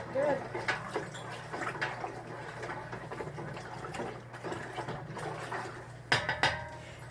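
A spoon stirs an apple pie moonshine mixture in a metal pot, making repeated clinks and scrapes against the sides over a low background hum, with a brief louder clatter near the end.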